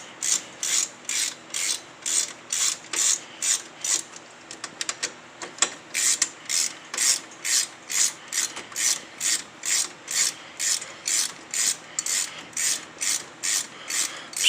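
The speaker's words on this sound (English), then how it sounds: "we'll go ahead and back those bolts out" Ratchet backing out bolts on the front brake of a Yamaha Wolverine X2, a loud, close, steady series of clicking pawl strokes repeating evenly throughout with a brief pause midway.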